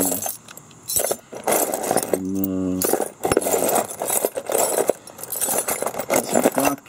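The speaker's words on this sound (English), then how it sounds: "105 keys in here. All different kinds, all different sizes." A box of about 105 assorted keys of all kinds and sizes jangles and clinks steadily in metallic rattling bursts throughout, with a brief low rumble partway in.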